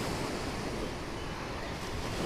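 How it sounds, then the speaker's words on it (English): Ocean surf on a Maui shoreline rolls in as a steady, broad wash of waves, continuous and fairly soft with no voices over it. "listening to the sound of the ocean,"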